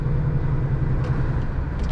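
A loaded Scania R450 truck driving downhill, a steady low engine rumble and road drone heard from inside the cab, constant and fairly loud throughout.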